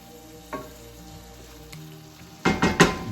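Beef sizzles in a frying pan with melting butter while a utensil stirs it, giving a steady soft crackle. Near the end a few louder bursts of scraping and sizzling come close together, near and clear, with no talking.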